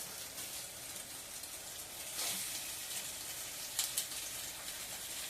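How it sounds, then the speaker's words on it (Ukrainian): Pork fat crackles and sizzles in a hot frying pan, a soft continuous hiss with occasional louder pops. "відправляю в сковорідку наше салко"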